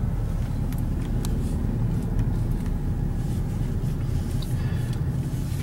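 A car cruising at 65 mph toward downtown gives a steady, low road rumble and engine drone from inside the cabin, even and continuous with no speech.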